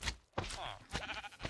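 Minecraft sheep bleating, a few short wavering bleats in quick succession, close and clear, with a dull knock between them.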